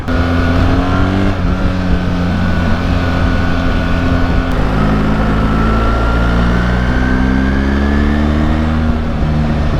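A loud 2025 BMW 1300 GSA motorcycle's boxer engine drones and climbs in pitch as it accelerates through gears, a deep steady tone shifting upward, close and continuous.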